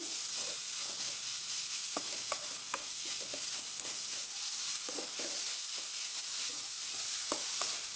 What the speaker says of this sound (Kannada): ಇದು ಬೆಳ್ಳುಳ್ಳಿ ಪೇಸ್ಟ್ ಹಾಕಿ ವಾಸನೆ ಹೋಗೋವರೆಗೂ ಹುರ್ಕೊಳ್ಳಿ